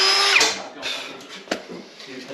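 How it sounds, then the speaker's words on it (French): A power drill bores through wooden ceiling beams for cable runs, short whining bursts starting and stopping in a workshop with faint background noise. "ce que Vito est en train de faire, c'est percer les poutres pour passer les câbles"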